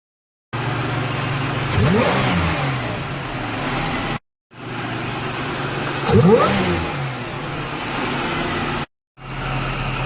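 A 3800 W-body car engine with a modified factory airbox revs twice in short bursts, rising and falling over a steady idle, with brief silent gaps between takes.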